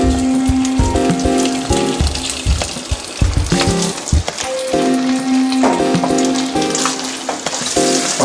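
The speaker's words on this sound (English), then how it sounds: "Add some oil into the frying pan. Okay, then add the shrimp. Start frying the shrimp." Shrimp frying in hot oil in a frying pan, a loud, steady crackling sizzle with occasional scraping and stirring clatter, close up and without talk.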